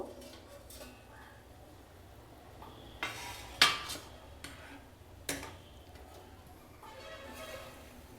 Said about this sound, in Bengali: ঢাকনাটা খুলে দেখব।